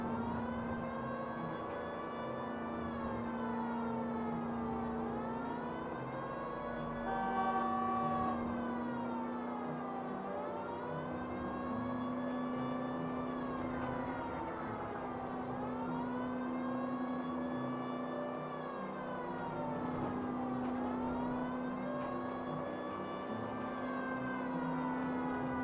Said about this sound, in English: all of them react differently to the siren